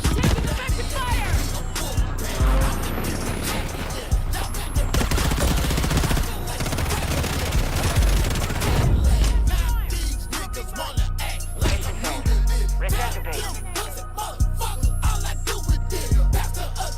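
Dense, loud gunfire from Call of Duty: Modern Warfare III: rapid automatic bursts and single shots cracking almost nonstop, with heavy low rumbles of nearby explosions mixed into the battle noise.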